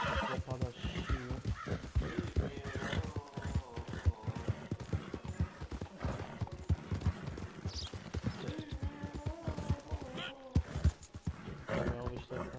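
Horse in a video game neighing and whinnying with clip-clopping hooves, repeated loud calls and hoof beats under game noise and someone talking.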